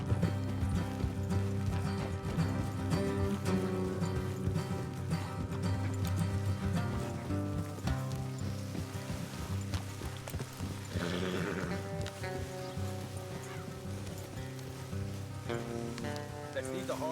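Horses trot along in the Red Dead Redemption 2 video game, a steady clip-clop of hooves blended with a constant musical score throughout.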